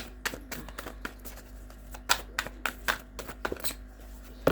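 Tarot cards being shuffled by hand at a reading table: a run of quick, soft papery riffles and taps, close and fairly quiet, in uneven bursts with no talking.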